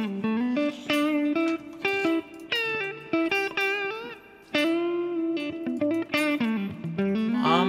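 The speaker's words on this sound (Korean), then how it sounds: "어 일단 클린 톤." A Tom Anderson Drop Top Classic electric guitar is played through a clean tone with heavy reverb, set to the middle position of its three-way toggle switch, sounding clear picked notes and chords alone for several seconds.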